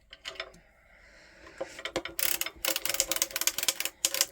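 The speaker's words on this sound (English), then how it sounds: "Now we're going to crank 2 rows." A circular sock knitting machine is hand-cranked through rows, giving quiet rapid mechanical clicking and ratcheting that starts sparse, then becomes a dense, steady clatter, close by with no talking.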